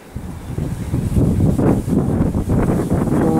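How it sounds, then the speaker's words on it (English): Wind buffets the microphone in a steady low rumble, gusting louder after the first second and holding strong to the end. "Oh, it's a windy day."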